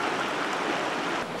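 The Chota river, which supplies water to Otuzco, rushes past in a steady, dense broadband roar, close and continuous with no breaks and no voices.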